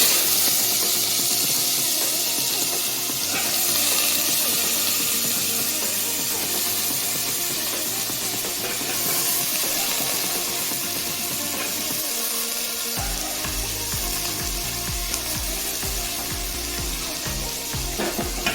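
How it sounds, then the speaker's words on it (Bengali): Potatoes frying in a pan of hot oil, with onions added partway through, give a steady loud sizzle and hiss throughout, shifting character near the end as the onions go in. "আলুটাকে ফ্রাই করে নিচ্ছি আগে।"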